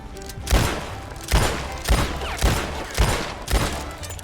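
Steady rounds of gunfire at a shooting range in Red Dead Redemption 2, six sharp loud shots spaced about half a second apart, with a ringing tail after each.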